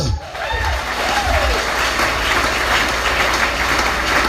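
A Sunday worship congregation in a French-speaking church bursts into sustained applause, a dense roar of clapping that fills the room and continues throughout, with voices mixed in beneath it.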